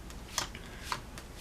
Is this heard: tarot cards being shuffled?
yes